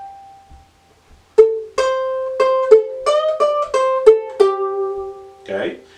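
Ukulele riff from a song, a run of about eight plucked notes in an uneven rhythm with a string bent up and brought back down, played close and clear, followed by a short breath or voice at the end.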